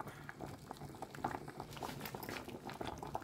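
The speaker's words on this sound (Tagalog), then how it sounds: "Ayan, at kumukulo na rin, beautiful people" Ripe bananas boil in a pot of water as a Filipino merienda snack, with a steady close bubbling and popping that continues without pause.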